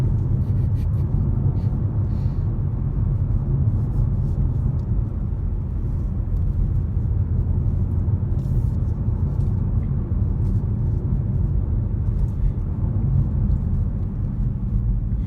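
A BMW M140i Shadow Edition cruises along at a steady pace, giving a continuous low road and engine rumble from inside the cabin, with no talking.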